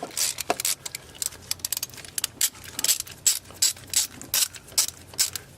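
A ratchet wrench loosens a bolt on the thermostat housing of a Dodge Challenger or Charger, giving close, sharp clicking bursts in quick repeated strokes with short pauses between them.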